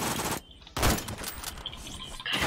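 Gunfire in the first-person shooter game Phantom Forces, a couple of sharp close shots with a burst of rapid reports in the middle, loud against a busy game background.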